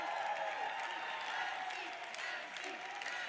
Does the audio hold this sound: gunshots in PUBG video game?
no